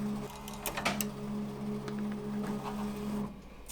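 Ricoma MT-1501 embroidery machine tracing a design outline, a steady low motor hum with soft mechanical clicks and whirs of the hoop moving, fairly quiet and close, then the hum cuts off.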